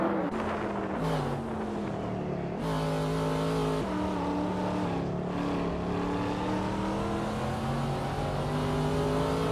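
Race cars in a video game race, engines droning and revving continuously with rising and falling pitch as gears shift, several cars close together and loud, no talk.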